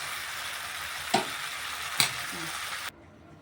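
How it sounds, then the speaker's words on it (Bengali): Steady hissing sizzle of yardlong beans frying in a pan, with two sharp scraping knocks of a utensil stirring, then the sizzle cuts off abruptly. "এভাবে একটু উল্টে পাল্টে ভাজা ভাজা করে নিচ্ছি"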